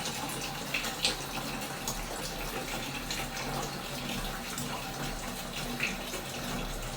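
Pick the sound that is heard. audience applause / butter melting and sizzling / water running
water running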